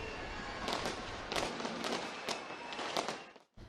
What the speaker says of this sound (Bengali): রাত 12টা বাজার সঙ্গে সঙ্গে ফোটানো হয় আতশবাজি